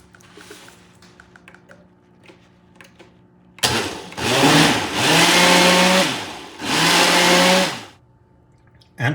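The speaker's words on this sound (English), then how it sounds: "And now it's time to add the rum, which you're going to blend too." Countertop blender whirring as rum is blended into coquito, three loud sustained motor bursts with short pauses between, following a quiet stretch of faint kitchen clatter.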